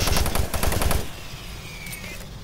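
Rapid automatic gunfire bursts in Doom 3, a loud rattling volley for about a second before cutting off into a quieter ambient hum with a faint tonal sweep.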